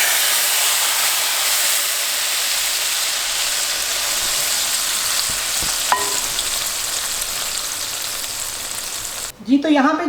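Steady hot-oil sizzle as paprika is tempered in oil for kadhi fills the clip, a continuous bright hiss with a brief clink near the end.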